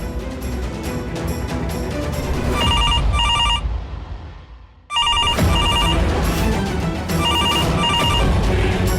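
A telephone bell rings in repeated bright trilling bursts, loud and close, over a dramatic music bed. It pauses briefly midway, then starts again.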